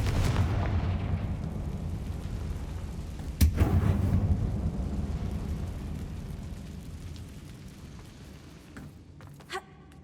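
Confringo fire spell in Hogwarts Legacy, a low rumbling blast with a sharp crack a few seconds in, followed by a long fading roar and faint crackles near the end, with no talking.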